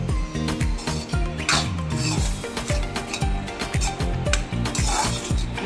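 Dry spice filling for kachori stirred and mixed in a pan, giving a steady run of raspy scraping and rubbing strokes in a regular rhythm, close and fairly loud, with no voices.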